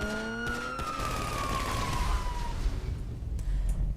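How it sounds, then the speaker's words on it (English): A police car siren in the video game GTA 5 wails with a long falling tone, fading into a low engine rumble with brief clunks, fairly quiet overall. "so now we'll go test out these sirens"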